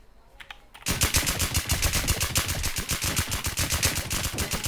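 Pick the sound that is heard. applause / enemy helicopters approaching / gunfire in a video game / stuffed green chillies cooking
gunfire in a video game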